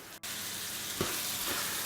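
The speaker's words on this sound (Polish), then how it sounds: "ja teraz to mięso będę smażył" Meat sizzles in a pan for a quick bolognese-style spaghetti sauce, a steady, close hiss of frying with a brief stir partway through and no voices.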